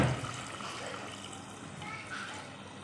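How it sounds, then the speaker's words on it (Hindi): Water is poured into a pot of chicken and potato curry, a steady liquid rush that is loudest at first and then eases, with someone speaking over it. "अब मैं इसमें जो है पानी ऐड करूँगी"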